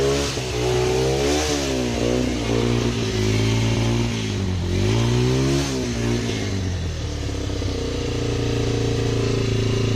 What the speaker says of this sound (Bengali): তো দেখতেই পেলেন আর কি গাড়িটা কত সুন্দরভাবে স্টার্ট হয়ে গেল।